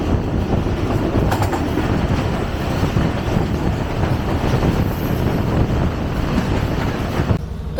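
The Hazara Express passenger train passes close on the railway in Pakistan, a loud continuous rumble with rhythmic wheel clatter and rattling cars that cuts off abruptly near the end.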